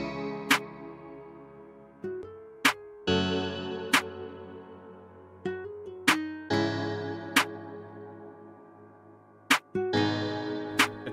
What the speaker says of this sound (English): We got this diet snare here. It's a big, thick snare